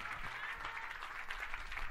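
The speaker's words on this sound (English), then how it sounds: "Oh, clap your hands in the name of the Lord." A church congregation claps its hands together during a sermon, producing a steady, dense wash of applause that lasts throughout without pause.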